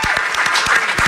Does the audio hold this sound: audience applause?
yes